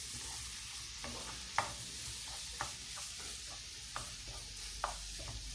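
Onions frying in a pan, a steady quiet sizzle with occasional light stirring clicks at irregular intervals, fairly faint and without talking.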